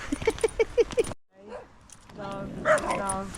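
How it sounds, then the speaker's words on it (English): Dogs bark in a quick series of yips, followed by whining and higher-pitched vocalizing, with a voice mixed in, during a puppy training class. "These will join in with the barking."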